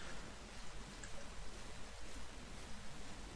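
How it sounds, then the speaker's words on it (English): Home-brewed Piccadilly porter pours steadily from a bottle into a glass, giving a soft, continuous trickling splash that stays faint and close with no talking. "So let's give it a pour, and we'll go from there."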